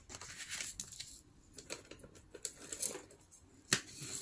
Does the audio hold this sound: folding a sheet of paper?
yes